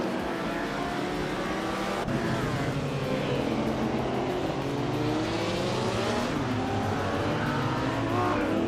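A 1957 Ferrari 250 Testa Rossa race car engine in a racing game drones steadily and loudly, its pitch rising and falling through gear changes with other cars audible alongside.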